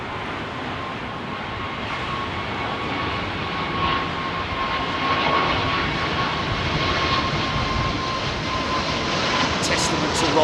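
Aircraft with Rolls-Royce engines that flew special PPE deliveries, heard at Heathrow Airport as a steady, loud engine roar that holds constant throughout, with voices faintly beneath it.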